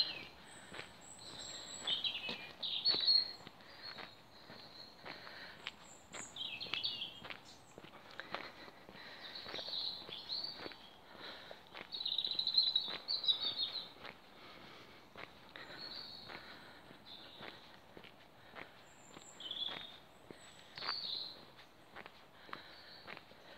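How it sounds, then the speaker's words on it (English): Robins sing in woodland beside a green belt, their thin high warbling phrases coming and going at a moderate distance over steady walking footsteps on the path. "Robins singing everywhere here. It's so nice to hear robins."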